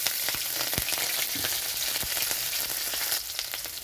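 Whole cumin, green chili, cardamom, cinnamon and bay leaf sizzle in hot oil as a tempering for vegetarian sago khichdi, a close, continuous crackling fry with a few sharp pops and stirring scrapes.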